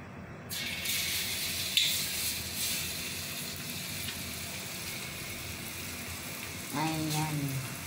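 Malunggay (moringa) fritters fry in a pan with a steady, close sizzling hiss that runs throughout, with a brief louder crackle partway and a burst of voice or tonal sound near the end.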